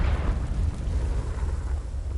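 A Confringo explosion curse from the Hogwarts Legacy video game bursts near a ruined castle, a heavy low rumbling blast that holds steady for about two seconds.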